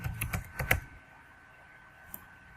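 A quick burst of computer keyboard typing, several close crisp keystrokes in the first second, then quiet with one last isolated tap.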